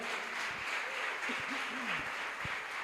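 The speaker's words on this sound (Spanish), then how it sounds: "Dale un aplauso al Señor." A church congregation applauds during a Spanish-language worship service, a steady wash of clapping that fills the space, with a voice faintly heard beneath it.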